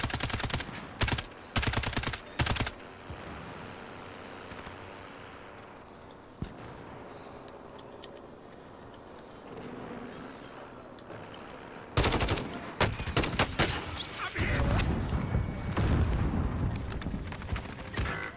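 Gunfire in a video game crackles in rapid bursts of sharp shots, a clustered volley at the start and a heavier, denser burst later, over a background hum.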